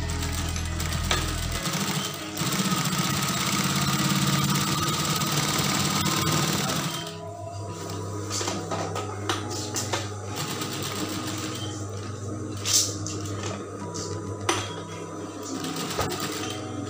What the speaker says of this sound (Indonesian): Kemudian langsung ini kita jahit.